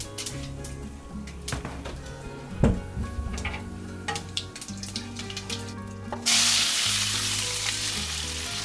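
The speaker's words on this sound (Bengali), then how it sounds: "শুকনো লঙ্কা আর জিরে দিয়েই বসিয়ে দেবো জিরে ফোড়ন দিয়ে" Dried red chilies and cumin seeds drop into hot oil for tempering, setting off a sudden loud, crackling sizzle that then hisses steadily, preceded by kitchen clinks over background music.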